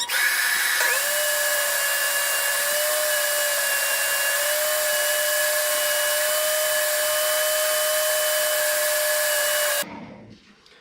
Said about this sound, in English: we moved over to the table saw